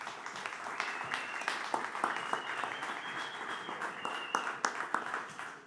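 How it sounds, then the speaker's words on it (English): A conference audience at a panel event applauds steadily in a large room, a continuous wash of many hands clapping at moderate distance, with faint voices underneath. "Let's give them a round of applause."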